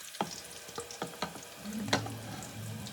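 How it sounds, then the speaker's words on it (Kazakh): Eggplant pieces frying in hot oil for a salad, a close sizzle with a few sharp crackles and stirring clatters in the first half, then a steadier frying hiss; no voices. "Енді қызып тұрған майымызға баклажандарымызды қызартып қуырып аламыз."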